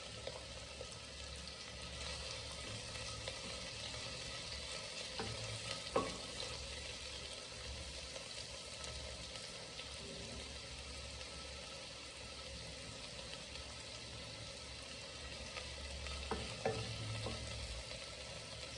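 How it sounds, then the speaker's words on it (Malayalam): Chopped onion and curry leaves sautéing in a spoon of oil inside a pressure cooker, a soft steady sizzle with occasional stirring scrapes, quiet and close with no talk. "അതിലേക്ക് ആദ്യം സവോള ഇടാം, കൂടെ കറിവേപ്പിലയും കൂടെ ഇടാം"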